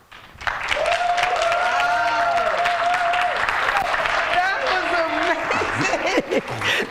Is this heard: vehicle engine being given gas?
no